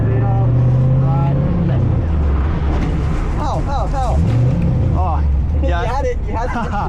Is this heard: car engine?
yes